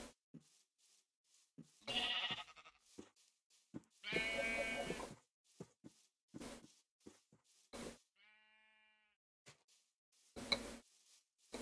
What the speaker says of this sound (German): Da sind einfach nur so Schafe.